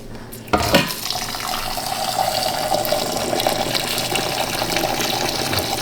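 Hot tap water runs steadily into a measuring cup in a kitchen after a brief clatter, a continuous close pouring and splashing hiss that lasts to the end.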